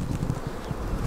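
Honey bees buzz at an apiary hive, checked while managing swarming with supplemental feeding: a dense, steady drone of many wings held close and constant throughout, with no talking.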